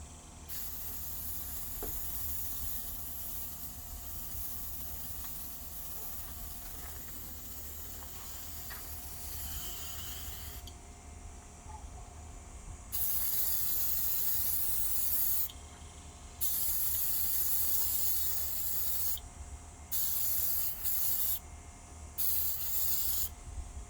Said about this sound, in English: You want a nice, even coat, like this.